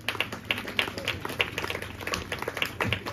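Audience at a parish golden jubilee clapping to welcome the parish father, scattered rhythmic claps, faint and somewhat distant, with light background voices.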